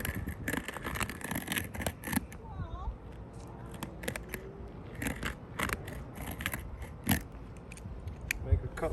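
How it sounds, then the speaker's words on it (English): Scissors or snips cut through the end of an asphalt roofing shingle, a series of close, crisp crunching snips scattered over several seconds against a faint background. "To do that, I have to cut the end of this shingle."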